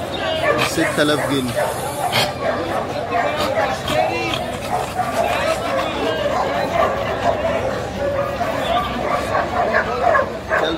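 A Kurbuli brindle dog at a Friday dog market barks repeatedly in sharp bursts, with some yips and whimpers, amid constant crowd chatter and people talking nearby.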